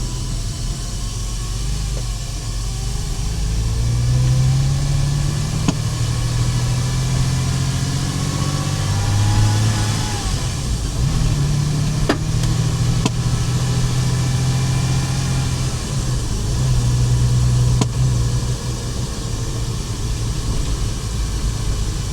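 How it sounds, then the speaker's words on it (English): Porsche Boxster engine droning steadily from inside the moving car, a low continuous hum with slight pitch swells as it rides along, loud and unbroken with no talk. "First time riding a real Porsche."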